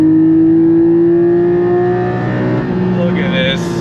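A Porsche 718 Cayman GT4, a mid-engine sports car, revs hard on throttle in a steady, loud climbing drone that swells and shifts pitch near the end, heard from inside the cabin.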